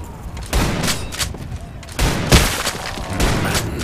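Booming blasts of the Outlaw shotgun in a first-person shooter game, four heavy shots spaced roughly every half to one and a half seconds, loud and close over game background noise.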